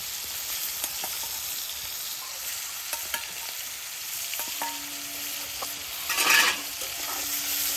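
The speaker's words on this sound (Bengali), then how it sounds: "গরম তেলের মধ্যে মাছের পিসগুলো দিয়ে দেবো মাছের পিসগুলো একটু ফাঁকা তেলে ভাজার চেষ্টা করবে" Pieces of kuche fish (eel) fry in hot oil, giving a steady crackling sizzle throughout, with occasional scrapes of a spatula and a brief louder burst of spitting near the end.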